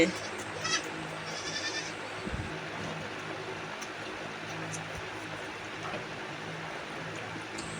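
Young goat kids give a few faint bleats while being bottle-fed milk from a container, brief cries near the start over a soft, steady background, with a person talking nearby.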